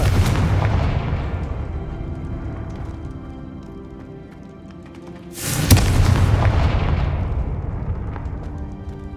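Confringo fire spell in the Hogwarts Legacy video game: a loud booming blast that decays slowly, followed by a second sharp explosion with a long rumbling tail, no talking.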